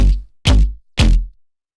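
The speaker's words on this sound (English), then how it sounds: "So like a weird stabby bass sound." Basic synthesizer patch makes a weird, stabby bass sound for a drum and bass track: three short, punchy, deep stabs in an even rhythm, each cutting off sharply into silence, loud and close.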